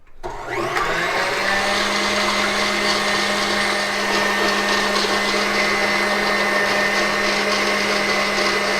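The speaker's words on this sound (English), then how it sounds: "we're switching to our whisk attachment and we're dumping our whites in" A stand mixer with a whisk attachment beats egg whites for eggnog, starting up abruptly and then holding a loud, steady motor whir with a constant hum for several seconds.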